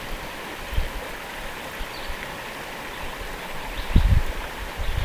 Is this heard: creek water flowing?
yes